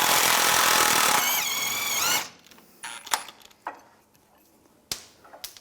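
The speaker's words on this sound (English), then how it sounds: "Now we're going to take this bolt out, use a 21mm wrench on the nut and 21mm socket on the bolt." An impact gun spinning loudly for about two seconds on a Cadillac Escalade rear shock bolt, then sudden quiet, followed by a few sharp metallic clicks and clanks of a wrench and socket.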